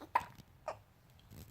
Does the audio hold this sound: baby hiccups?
yes